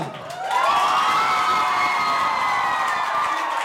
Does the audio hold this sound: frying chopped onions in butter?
no